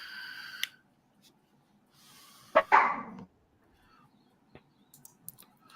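A dog lets out a couple of sharp, close barks in quick succession amid an otherwise quiet room, followed by a few faint clicks.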